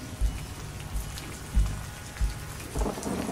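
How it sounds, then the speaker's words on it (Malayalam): Steady rain pours down with several deep thunder rumbles rolling in at regular intervals, fairly close and full, with no voice over it. "മാളവത്തിൽ മഴ ചീറിയലയ്ക്കുന്നു"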